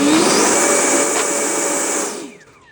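A large RC plane's electric motor at full throttle gives a loud, steady high-pitched whine with a rising tone, close by, that runs for about two seconds and then quickly dies away.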